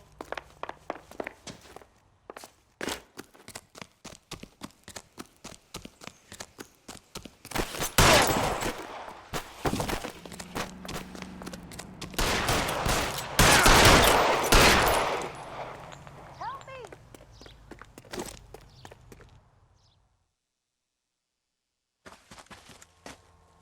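Gunfire breaks out in L.A. Noire: scattered sharp shots and footsteps build into heavy clustered volleys, loud and echoing, before tapering off into silence and a few final thuds.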